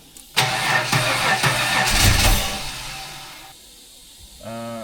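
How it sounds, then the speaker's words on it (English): A weak battery slowly cranks an L67 car engine over, a loud, continuous laboured churning that runs for about three seconds before dropping away, with a brief rising whine at the end. "it doesn't sound like it's got full momentum when it's turning over"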